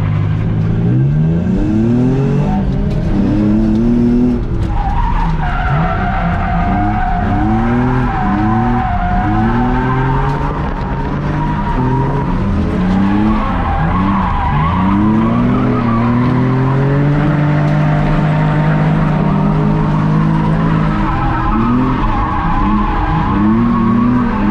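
A train of drift cars at a Toledo, Ohio car meet slides through a lap, engines revving hard and rising and falling while tires squeal and skid continuously, loud and close throughout.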